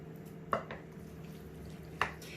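A pasta bake mixture is stirred in a dish, with two distinct soft scraping clacks of a utensil over a quiet background.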